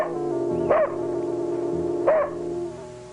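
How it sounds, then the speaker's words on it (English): A dog barks twice, about a second and a half apart, over a steady droning musical background. "she was distracted by the incessant barking of her dog"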